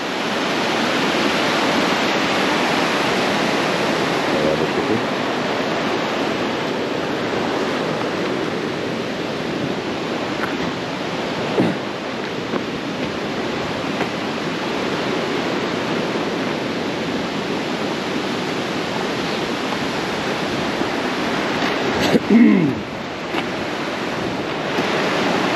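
A river rushing over large rocks in Sequoia park, a loud, steady broadband roar of flowing water with some wind buffeting, continuous and close with no voices.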